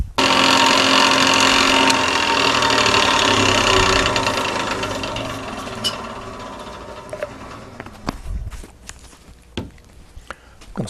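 A wood lathe turning an eyeglasses holder runs with a loud, steady whir while friction polish is applied, then winds down into quieter intermittent knocks and taps.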